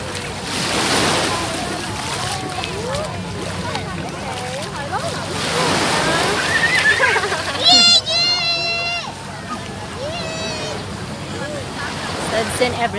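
Ocean waves and surf washing onto a beach on a summer day, a steady broad roar with wind buffeting, under people talking and children's voices nearby.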